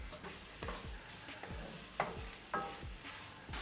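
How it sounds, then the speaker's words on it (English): Chopped onions softening in a pan for a vegan one-pot Thanksgiving pot pie, with a steady low sizzle broken by repeated scrapes and stirs of a spoon against the pan, close up and with no talking. "we just have to wait right now for the onions to cook"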